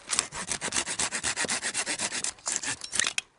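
A folding survival saw cuts through a small, clean wood log in about twenty quick, even push-pull strokes, each a loud rasping scrape heard up close with no talking.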